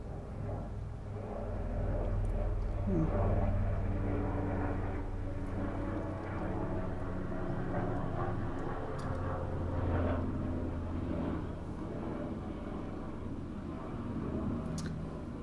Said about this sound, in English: It's a helicopter that you hear. It's a military helicopter.